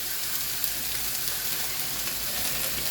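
Okra frying in hot rice bran oil over a medium flame produces a dense, even crackling sizzle, close and constant throughout with no pauses.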